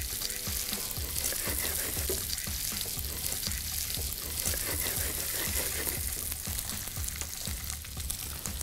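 Potatoes dropped into hot oil for spiced achari aloo, sizzling and frying loudly and steadily at close range, with crackles and scraping stir sounds throughout and no talk.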